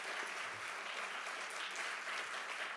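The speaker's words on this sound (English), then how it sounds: "So big round of applause." Steady applause from a conference audience at an award ceremony fills the moment, dense and even, with no voices over it.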